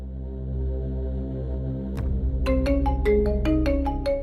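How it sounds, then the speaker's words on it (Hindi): A melodic phone ringtone starts partway through, its plucked notes repeating in a quick pattern over a low steady hum. "ऐसे ही फोन बजता है"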